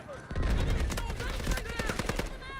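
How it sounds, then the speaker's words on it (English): Rapid automatic bursts from an SMG-45 submachine gun in the Delta Force video game, loud and close, with sharp repeated shots filling the clip and some game sound mixed in. "Make sure that we use this SMG-45 that has extremely low recoil."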